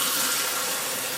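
Cold tap water pours steadily into a pot holding a cup of rice, a constant broadband rush with no breaks and no talk over it.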